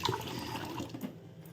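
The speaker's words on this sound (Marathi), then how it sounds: "आणि इथं धुवून घेणार आहे दोन चार पाण्याने धुवायची" Close splashing and swishing of water in a vessel as pulses are rinsed, moderately quiet, fading slightly toward the end.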